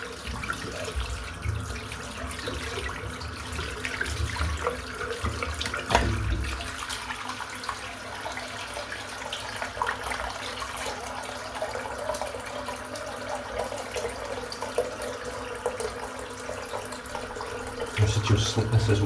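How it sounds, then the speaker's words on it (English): Tap water runs steadily into a bathroom sink as it refills during a wet shave, a continuous close hiss and splash lasting throughout, with a brief swell near the end. "just fill this sink back up"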